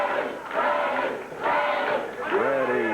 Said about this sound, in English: Freddy, says the crowd